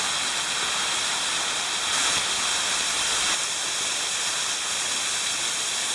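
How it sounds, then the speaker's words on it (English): Waterfall swollen by rain at Cumberland Gap, a steady broadband rush of falling water that holds constant and fairly loud through the whole stretch, with no voices. "A little better view of the waterfall."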